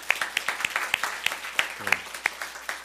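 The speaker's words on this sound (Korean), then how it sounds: "우리 고3 우리 친구들, 이제 청년들한테 다시 한번 격려의 박수를 하겠습니다" A church youth service congregation claps in encouragement for high school seniors, with sharp separate claps forming a loose, uneven rhythm from a modest group, close and fairly loud.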